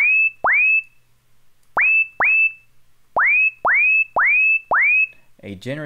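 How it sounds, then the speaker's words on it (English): A synthesized sine wave shaped by a pitch envelope repeatedly sweeps sharply up in pitch and holds, eight bright blips in uneven pairs and clusters, clean with no talking, ending on a brief noisy burst. "A sine wave and a pitch envelope."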